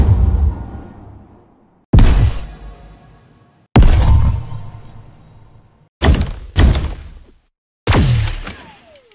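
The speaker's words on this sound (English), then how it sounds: "I like to put video game sound effects into my music. Specifically, sound effects I've designed for my own games." Designed game sound effects from Vividary: five heavy, noisy thunks and crashing impacts, each with a rumbling decay and shattering tail, separated by short silences.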